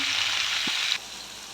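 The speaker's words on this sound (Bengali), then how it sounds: "এখন সুন্দর করে লাল লাল করে ভেজে নেব" Onions and green chillies sizzle and fry steadily in a hot pan, a loud continuous hiss with a brief low thump midway before the sizzle drops quieter near the end.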